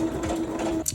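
A sewing machine runs a straight stitch of length 3.5 along a princess seam on a dress, giving one brief, close, steady hum that stops abruptly with a click.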